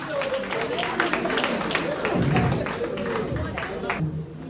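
Reunion attendees of a grammar school class clap together in a hall, a steady patter of many hands with voices murmuring underneath, fading out near the end.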